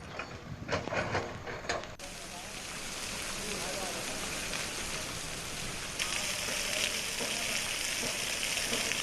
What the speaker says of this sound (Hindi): पिछले 24 घंटे से लगातार बारिश हो रही है